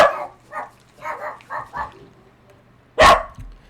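A dog barks several times in quick succession nearby, then lets out one louder, sharper bark after a short pause, with construction going on outside.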